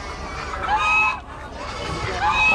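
Ducks at an Amish animal auction, mixed with other fowl such as geese and chickens, give a few honks and quacks among the stalls, with people talking close by.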